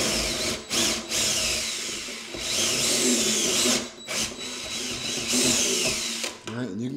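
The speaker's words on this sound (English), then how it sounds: "So I just want to drill with the bigger bit, drill through just the first layer." A power drill whirs in long steady bursts with brief pauses between them, drilling through the first layer of a drawer front with a larger bit, close by and loud, ending with a short rising rev.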